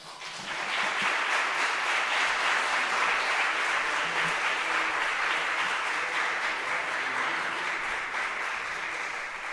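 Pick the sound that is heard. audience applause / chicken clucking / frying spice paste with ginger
audience applause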